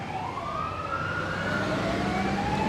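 Fire truck sirens wail at an Emergency Services Volunteer Fund rally in Bendigo, Victoria, with several overlapping sweeping tones rising and falling continuously over rumbling vehicle engines, loud and fairly close.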